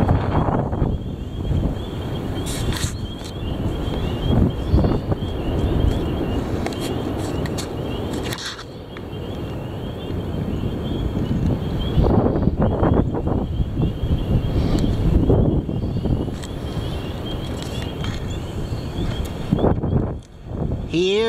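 Heavy wind roars in strong, rumbling gusts across the microphone, a continuous buffeting that swells and eases, dropping briefly near the end.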